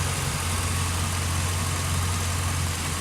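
A deep, steady idle from a 1992 Chevrolet Corvette engine rumbles continuously at close range, a full low burble with no other sounds.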